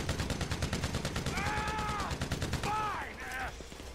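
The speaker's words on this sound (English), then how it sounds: "Jeez, Trevor, your aim sucks." Rapid automatic gunfire in GTA 5, a dense train of sharp repeated shots throughout, with a rising whistling tone layered partway through, loud and close.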